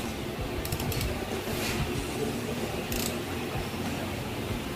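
Ratchet tightening the throttle body bolts on a Yamaha Aerox V2 scooter, short bursts of clicking pawl teeth over a constant background hiss.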